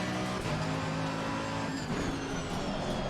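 Car tyres scrubbing and squealing through right-hand corners in Assetto Corsa Competizione, heard as a steady engine drone with faint tyre hiss running the whole time, no talk.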